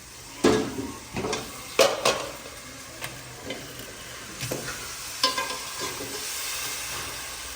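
Halwa cooks in a kadai as a spoon scrapes and knocks against the pan in irregular strokes over a soft, steady sizzle.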